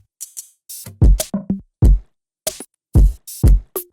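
A bouncy 808 drum pattern with sharp, punchy hits in a syncopated rhythm, deep booming low end under crisp upper transients, loud and upfront with short gaps between strikes.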